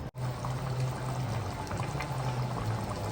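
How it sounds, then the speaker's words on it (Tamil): Coconut milk pours into a pot of Jaffna-style chicken curry with a soft, continuous liquid gurgle and a low simmering hum, close and fairly quiet after a brief initial dropout. "நாங்கள் வந்து தேங்காய் பாலை சேர்ப்போம்."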